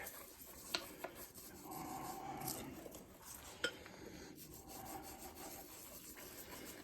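Scrubbing a small plant pot by hand, a steady rough rubbing with a few sharp knocks, close and moderately loud with no talk.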